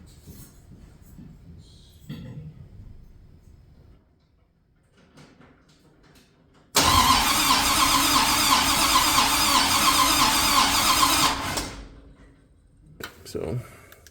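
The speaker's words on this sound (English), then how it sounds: "Go ahead and turn it over." A 1970 Dodge D200 truck with a swapped engine is cranked over for about five seconds, a loud, steady mechanical churn that cuts off suddenly. Quiet talk and shuffling come before it, and a voice follows.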